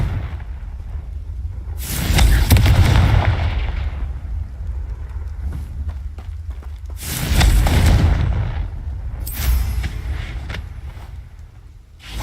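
Confringo fire spell in Hogwarts Legacy: two heavy booming fiery blasts, each with a deep thud and a long roaring decay, then a lighter burst near the end.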